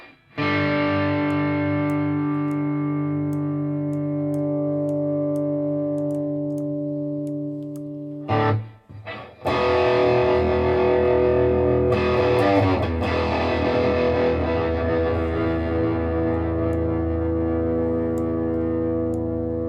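Electric guitar through a Boss Katana MK II amp with the GE10 EQ switched on: a long sustained distorted chord, a brief break with clicks, then another distorted chord fading out slowly.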